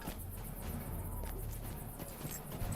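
A horse's hooves clip-clop steadily as it is ridden in LOTRO, a regular walking beat under a constant dense game ambience with no talk.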